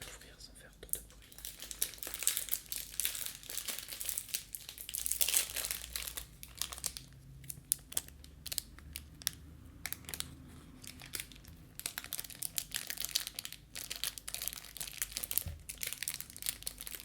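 Plastic wrapping on a packaged Bijou madeleine cake crinkles and tears as it is opened slowly and softly, in close, quiet, continuous rustling with faint low speech underneath.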